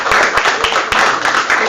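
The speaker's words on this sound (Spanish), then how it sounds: "Aplausos para que vean." Audience applause at a talk on women and labour diversity in Mexico, steady dense clapping with a few sharper claps standing out, loud and close throughout.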